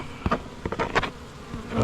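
Honey bees buzz loudly and constantly around an opened Langstroth hive during an inspection, with close individual bees flicking past in sharp, wavering whines.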